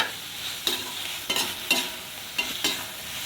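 Fried potatoes are stirred into an oily gravy in a pan for a fish-roe curry, with a steady low sizzle and about five distinct scraping strokes of the spoon at an uneven rhythm, heard close and without talk.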